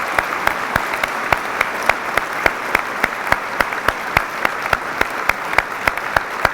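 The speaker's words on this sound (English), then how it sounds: "Please join me in a round of applause as we honor these special guests" An audience applauds at a 2019 high school academic award ceremony, with steady broadband clapping and sharper individual claps standing out at regular intervals throughout.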